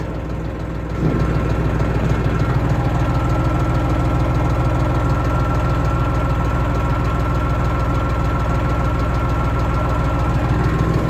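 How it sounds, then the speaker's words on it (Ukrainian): A Dongfeng 244G2 diesel tractor engine, fuel injection pump recently serviced, idles steadily and close by, a low, even knocking chug that runs unbroken throughout after a brief quieter start. "як вже працює тракторець на холостих"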